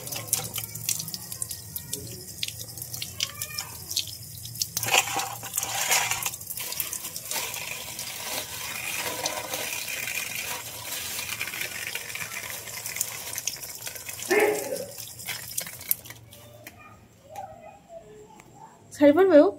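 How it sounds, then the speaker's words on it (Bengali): Fish and meat being washed under a running kitchen tap, water splashing and gushing steadily with clattering handling noises, close by, with a voice talking over parts of it. "আর এখানে আমি মাছ ধুচ্ছি, মাংস ধুচ্ছি"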